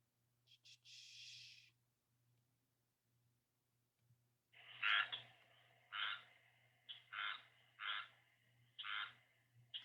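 A rain frog of the coastal plain gives a short burst of calls, then after a pause a series of about six loud, rhythmic quacking croaks close by, over a faint steady low hum.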